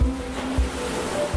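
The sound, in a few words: flood surge waves and strong wind tossing ship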